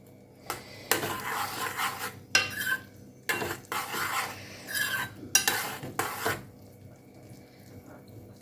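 Food soaking in syrup is stirred in a pot with a utensil, producing several close scraping, sloshing passes with short pauses between them and no voices.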